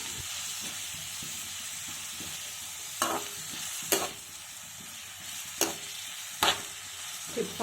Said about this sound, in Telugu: ఉల్లిపాయ ముక్కలు మధ్య మధ్యలో కదుపుకుంటూ ఉండాలి.